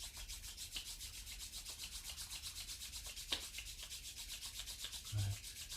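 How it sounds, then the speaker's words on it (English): Palms rub together in a steady back-and-forth swish, soft and close during a quiet yoga practice, with a faint low hum underneath and a brief thump near the end. "Let's rub the palms together."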